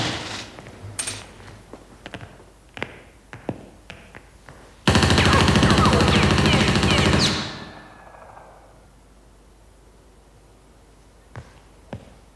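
Powerful machine gun fires in sharp scattered single shots, then one dense continuous burst of rapid fire lasting over two seconds that ends in a fading echo, followed by near silence and a couple of faint late shots.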